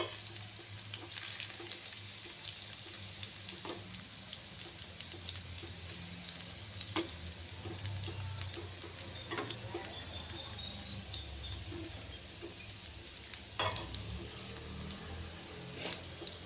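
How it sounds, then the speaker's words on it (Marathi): Pumpkin vadi frying in a pan over a low flame, with a soft, steady sizzle and occasional faint clicks and stirring sounds, quiet and unbroken throughout. "गॅसची फ्लेम मंद ठेवा आणि मंद छान खरपूस असा आपण या वड्या तळून घेऊ"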